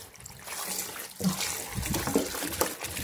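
Tap water running into a strainer in a kitchen sink while spinach soaks: a close, uneven trickle and splatter with small gurgles, continuous for a few seconds.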